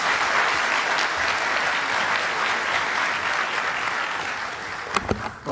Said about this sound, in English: If we can please have a big round of applause